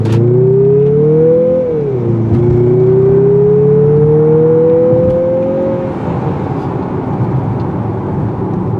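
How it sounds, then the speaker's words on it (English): Turbocharged 2023 Mazda CX-50 pulls hard under acceleration, engine tone climbing steadily, dipping at a gear change, then rising again before easing off, close and loud inside the cabin over road rumble. "This turbo engine's got a lot of guts."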